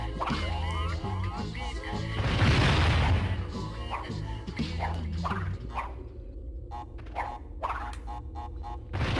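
A game explosion in Crash Twinsanity bursts loudly at around two seconds, a broad booming blast over steady game music and effects, then fades as the platforms settle.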